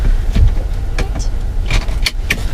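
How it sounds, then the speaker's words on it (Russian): Inside a taxi, a passenger fastens a car seatbelt: a few sharp clicks and rustles stand out against a steady low cabin rumble, close and moderately loud, with no talking. "Давай пристегивайся. Пристегнешься там?"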